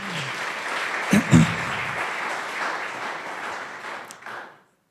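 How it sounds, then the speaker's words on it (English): Audience applauding at a summit, a broad sustained wash of clapping with a couple of louder bumps, fading out near the end. "round of applause because she came from Australia"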